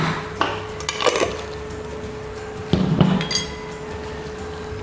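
A metal utensil stirs pepper and chopped garlic in a cooking pan, giving a few sharp clinks and scrapes separated by quieter pauses.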